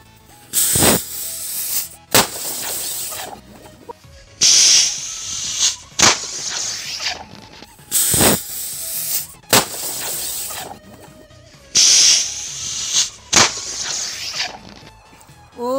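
Homemade rockets firing at a homemade toy ship, a sequence of loud hissing, rushing bursts, each launched with a sharp crack, repeating about every two seconds close by.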